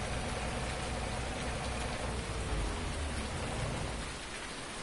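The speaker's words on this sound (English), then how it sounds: "So when this rain stops, I'm going to have to come in here" Heavy, continuous rain in Farming Simulator 19 pouring down with a dense hiss, rumbling low tones underneath, easing slightly toward the end.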